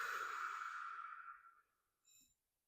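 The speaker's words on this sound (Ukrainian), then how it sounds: "І видихаємо через рот." A single deep exhale through the mouth during a guided relaxation meditation, close and soft, fading out over about two seconds, followed by a brief faint breath and then silence.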